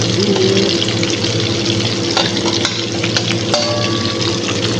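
Cheese frying in a hot pan with oil, a loud, steady close sizzle and crackle lasting throughout, with a few faint clinks of a utensil and no talking.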